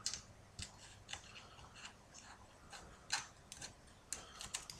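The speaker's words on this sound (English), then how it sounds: "Just get your scissors, like I said, and just gently trim off" Scissors gently trimming off small bits of a handmade piece, a series of soft, quiet snips in irregular rhythm, close and alone with no talk.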